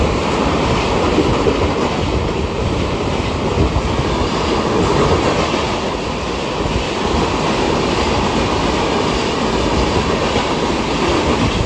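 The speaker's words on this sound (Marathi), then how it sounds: "एक जलद गाड़ी जाणार आहे" A fast train rushes past platform 5 at a Mumbai suburban station, a dense, loud, continuous roar of wheels and rail clatter holding steady throughout, with no voices.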